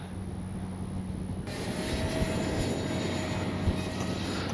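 A radio-controlled model jet airplane roars steadily overhead in gusty wind, its engine whine growing louder and fuller partway through, with constant wind-like rush beneath.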